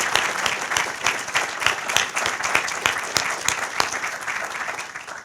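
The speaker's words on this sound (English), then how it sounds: "So please join me in applauding our volunteers, everyone who helped make this evening possible" An audience at a book discussion applauds volunteers and retired General David Petraeus, a dense, sustained burst of many hands clapping at close range that carries on steadily for several seconds.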